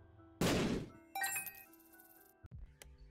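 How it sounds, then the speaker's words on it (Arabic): A bomb explodes in the video game The Binding of Isaac with a loud, sudden blast that fades quickly, followed by chiming game tones and a few short knocks and thuds. "طيب خلنا نفجر هذه."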